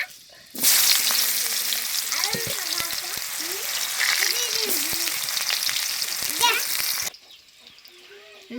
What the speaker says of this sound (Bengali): এটা আলু ভাজা হচ্ছে।